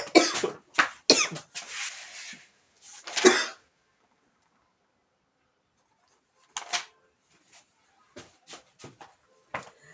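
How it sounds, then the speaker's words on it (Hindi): Several sharp coughs in quick succession, fairly close, followed by a quiet pause and a few fainter, scattered coughs or throat noises. "खांस देते"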